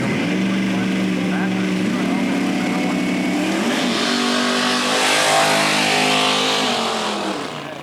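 A nitrous-fed Vega drag race car accelerates hard down the strip, its loud engine roar rising and shifting pitch as it pulls away, with an announcer's voice talking over the noise.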